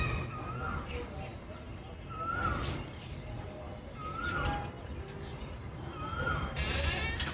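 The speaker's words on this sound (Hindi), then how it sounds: "कोयल बोल रही है बहुत तेज तेज" An Asian koel calls loudly several times at a steady interval on a hot summer day, its rising notes carrying over a dense layer of household background noise with faint voices.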